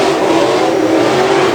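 Pro Modified race cars charge into turn 1 in a loud, continuous roar of engines, a dense sustained drone with a faint higher whine running through the brief burst.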